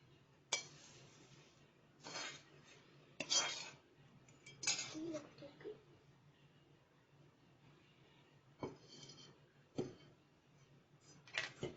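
Metal utensils clink and scrape against a pot and strainer while homemade herbal hair oil is strained, in a few sharp, close bursts of clatter with quiet gaps between them.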